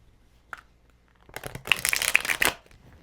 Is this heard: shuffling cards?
yes